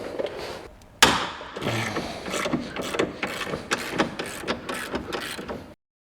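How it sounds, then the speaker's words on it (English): A ratchet wrench works a 15 mm bolt loose on the lower suspension arm of a Polaris Sportsman 850 SP ATV, giving a close, steady run of rapid clicking ratchet strokes that stops abruptly near the end. "It's a 15. So I'm going to remove the lower one."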